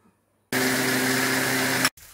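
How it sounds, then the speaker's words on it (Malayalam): A kitchen mixer grinder grinds soaked multigrain rice and lentils with salt for adai dosa batter, starting abruptly with a loud, steady whirring hum for over a second before cutting off. "ഇനി കുറച്ച് ഉപ്പിട്ടിട്ട് നമുക്കിത് അരച്ചെടുക്കാം."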